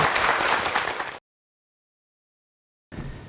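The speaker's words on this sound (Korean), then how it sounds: "큰 박수 부탁드립니다" Audience applause at a formal meeting, a dense wash of clapping for just over a second, cut to silence, then resuming faintly at the end.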